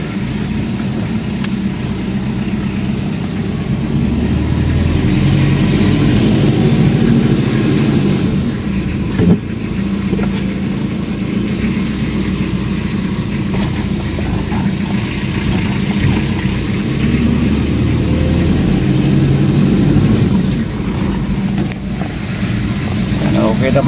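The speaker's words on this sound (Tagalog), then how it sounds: "Okay, test drive muna natin." A car with brakes that keep sticking drives on a test run, its engine giving a steady low rumble that holds at a constant level throughout, with no clear revving.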